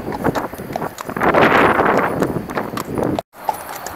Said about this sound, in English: Good old horse, man.